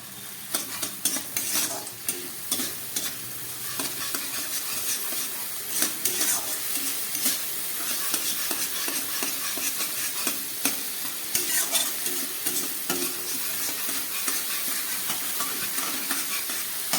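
A paste of ground poppy seed and cashew sautés in a pan on low heat, with a constant soft sizzle under repeated scraping and stirring strokes of a utensil against the pan.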